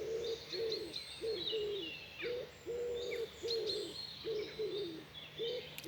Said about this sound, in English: beautiful sound of birdsong.